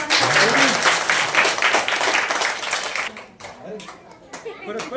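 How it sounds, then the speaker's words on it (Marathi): Schoolchildren at a primary school event clap together in a loud, close burst of applause that fades out after about three seconds, leaving a few scattered claps and children's chatter. "छान, मस्त टाळ्या वाजवा."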